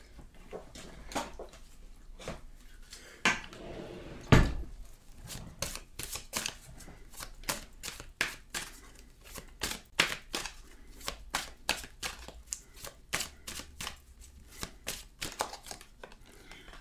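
Oracle cards being handled and shuffled, a run of soft crisp snaps and flicks at irregular intervals, close and quiet with faint room noise.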